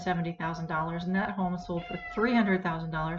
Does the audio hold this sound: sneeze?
no